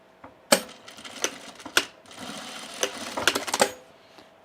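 A serger stitches the hem of a sunblock top in short, close mechanical bursts with brief pauses between runs.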